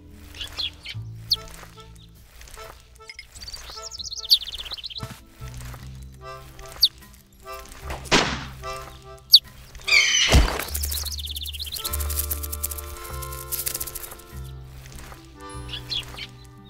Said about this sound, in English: hunt sparrows with a slingshot